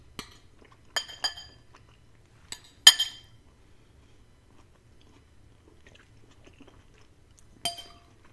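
Someone taking bites of home-cooked food in a kitchen on a snowy day, a few sharp crisp bites and clinks of glass or cutlery scattered among quiet pauses, close to the microphone.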